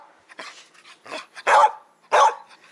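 A dog in a roomy outdoor enclosure barks several times in quick succession, with two loud, close barks standing out among shorter, softer yelps; no talking.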